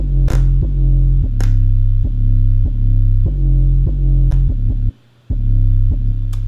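A deep, sustained 808 bass throbs in long low notes with light percussive ticks on top, cutting out briefly near the end before returning.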